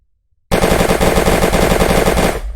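Rapid automatic Uzi fire from an Unreal Engine 4 third-person shooter game, a loud continuous burst of fast rattling shots that starts abruptly after a brief silence and runs for about two seconds, then cuts off.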